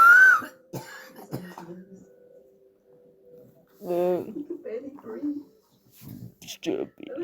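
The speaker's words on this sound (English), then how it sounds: "Cough." A single person coughs sharply at the start, followed by faint murmuring speech and rustling.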